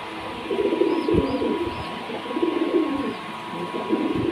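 Pigeons cooing in low, throaty rolling calls, repeated several times close by, with faint background noise.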